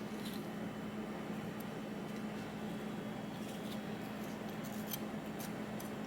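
A knife cuts the core out of a halved Roma tomato, giving faint, scattered scraping and cutting ticks over a steady low kitchen hum.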